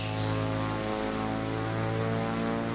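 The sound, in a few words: Corvalis TT propeller aircraft landing in video game MSFS 2024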